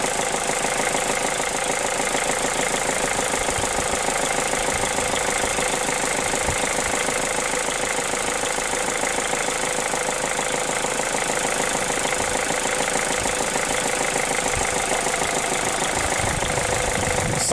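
A Mazda2 petrol engine running on hydrogen idles with a steady, rattly, diesel-like clatter, close and constant throughout with an even rhythmic knock and no talking.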